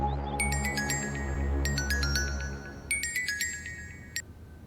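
A mobile phone rings with an incoming call, its bright electronic melody repeating in three short bursts over a low steady hum that fades partway through.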